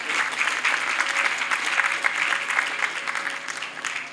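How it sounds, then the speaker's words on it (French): An awards-ceremony audience applauds the prize winner with sustained, dense clapping from a large crowd, steady and fairly loud throughout with no speech over it. "vous pouvez applaudir celui qui a gagné quand même."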